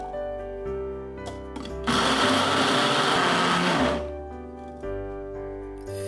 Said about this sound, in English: To get a puree, blend them with 3 garlic cloves